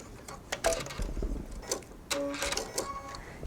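A sewing machine runs a sleeve seam along the inside edge toward the hem, making quiet, close bursts of quick mechanical ticking and whirring with short stops between runs.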